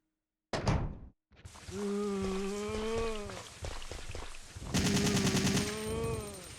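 An assault rifle fires in the PS1 game Resident Evil 3, sharp bursts of gunfire mixed with tonal in-game sound effects.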